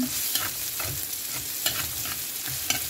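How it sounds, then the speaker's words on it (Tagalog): Garlic sizzles in hot oil for pancit bihon, a constant crackling hiss close by, broken every so often by sharp clinks and scrapes of a utensil stirring the pan, with no talking. "Nagpainit na ako ng mantika. Lagay na natin yung bawang."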